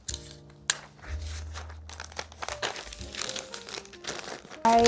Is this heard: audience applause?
no